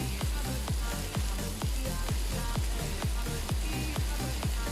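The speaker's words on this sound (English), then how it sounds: "So I'm gonna stir it." Garlic frying in a pan gives a continuous loud sizzle with a regular pulsing beat running underneath, close and steady throughout, with no voices.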